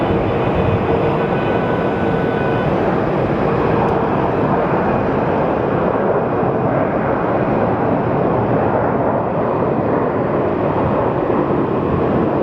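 A Southwest airliner at Phoenix Sky Harbor airport lines up for runway 26, its engines giving a loud, steady, unbroken roar that holds for the full stretch with no talking.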